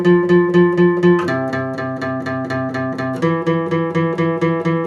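Electric guitar plays a lesson part, a steady repeated rhythmic figure picked in even strums with chord shifts at two points, loud and close with no talking.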